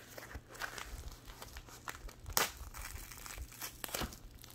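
Layered tape peeled and torn off a sealed Burger King Pokémon card pack, close crinkling and crackling bursts with one sharp rip partway through, no talk.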